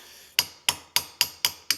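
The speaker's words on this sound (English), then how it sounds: "this is really heavy cork gasket, so we're gonna have to get somewhat aggressive with this little hammer" A small peen hammer strikes a heavy cork fuel tank gasket six times in a steady rhythm, each tap sharp and close with a short ringing decay.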